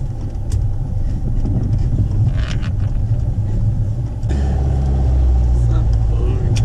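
A car speeds along with a loud, continuous rumble of engine and road noise heard from inside, growing heavier partway through, while people talk.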